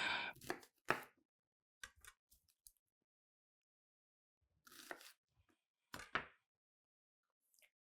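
Knife chopping a red onion into quarters on a board, a few sharp isolated cuts spaced apart with quiet gaps between, close and clear with no talking.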